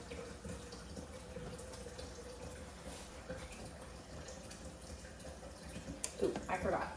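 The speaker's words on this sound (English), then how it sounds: "get a pitcher of water going" Tap water pours steadily into a pitcher in a home kitchen during apple canning, a continuous close stream that swells slightly toward the end, with a few clinks near the finish.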